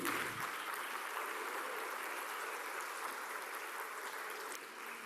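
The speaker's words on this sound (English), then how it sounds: "one more round of applause, please" A conference audience applauds panelists, a broad steady wash of clapping from a hall that holds for several seconds and eases slightly near the end, with no talk over it.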